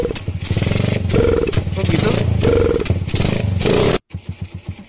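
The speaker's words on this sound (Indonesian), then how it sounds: "Oh, motor mati ini." Motorcycle engine in a video game, loud rough chugging revs pulsing for about four seconds, then abruptly cutting out before faint sputtering bursts as it tries to restart, with a voice speaking over it.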